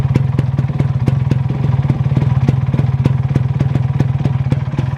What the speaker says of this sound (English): You can see the bike is in the idling stage. You can see the exhaust note.